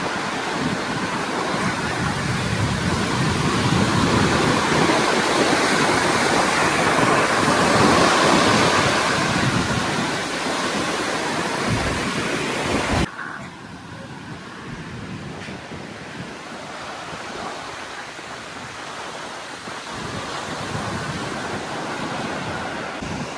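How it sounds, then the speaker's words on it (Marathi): Loud, continuous roar of heavy monsoon high-tide surf and wind at Kihim Beach, broadband and surging, dropping suddenly to a quieter, steadier wash partway through. "पावसाळ्यात समुद्राची जी भरती असते ना ती एकदम भयानक असतं बघण्यालायक असतं"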